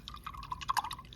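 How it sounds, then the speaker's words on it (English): A paintbrush swishes in a cup of water, giving a few quick, close, wet splashes and drips in under a second, with no talk. "So now you want to clean your paintbrush off in your water."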